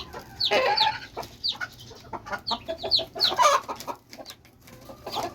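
A mother hen clucks close by beside her newly hatched chicks, her soft repeated calls coming in uneven bursts, with thin peeping from the chicks scattered between them.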